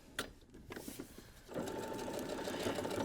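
Sewing machine stitching a quarter-inch seam through a beginner scrap quilt block, a few faint handling clicks at first, then a steady close, continuous motor whir with rapid needle chatter running to the end.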